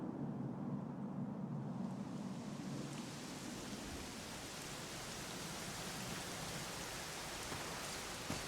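Steady rain falling in Dragon Quest XI S, a dense hiss of downpour that stays constant and even throughout, low and broad with no voices.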